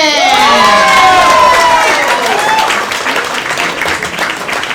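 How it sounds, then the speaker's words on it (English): A large crowd at a comedy show at the Metropolitan Room, NYC claps and cheers loudly, with high whoops and shouts over dense, sustained applause. "Women's Gym and start clapping it up for Dan Colgan."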